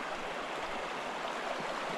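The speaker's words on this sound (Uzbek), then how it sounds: "Beldersoy daryosi" A small tributary, the Beldersoy river, flows through snowy winter mountains with a steady, full rush of running water, continuous and close, with no voices.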